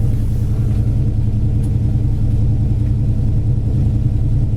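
A 1964 Dodge Polara's warmed-up 440 engine with dual four-barrel carburetors on a cross ram intake, idling as a loud, steady, close low rumble that holds even throughout.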